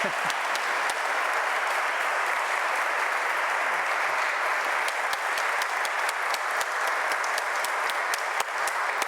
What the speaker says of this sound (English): Can we please have a round of applause for Sally?